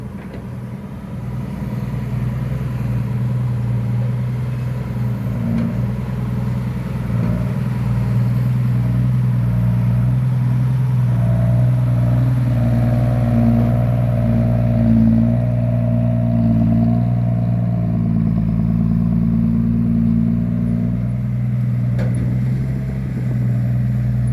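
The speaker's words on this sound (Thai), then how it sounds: "โอ้คันนี้นี่เสียงท่อเพาะเกิน" A loud, deep engine rumble from a nearby vehicle idling and revving steadily, with a throaty exhaust drone throughout.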